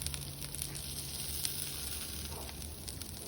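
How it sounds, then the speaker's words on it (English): Choice steaks sizzle steadily on a tabletop grill as they brown on their second side, a constant close hiss and crackle with no talking. "We're going to let our steaks finish browning on the other side."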